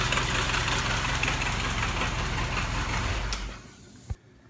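A WWII Jeep engine runs steady and close with its Westinghouse compressor disengaged, a dense continuous rumble that fades out near the end, followed by a short thump and quiet.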